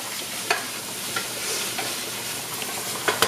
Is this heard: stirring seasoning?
yes